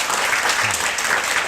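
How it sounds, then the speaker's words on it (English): Brief burst of dense, steady clapping from an audience at a year-end reflection gathering, filling the moment without speech. "let's give her a round of applause"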